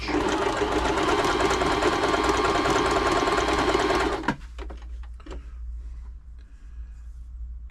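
A Bernette b35 sewing machine stitches steadily and loudly for about four seconds during a top-tension test, then stops, leaving faint handling clicks and low hum.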